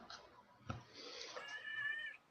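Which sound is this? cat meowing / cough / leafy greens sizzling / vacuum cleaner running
cat meowing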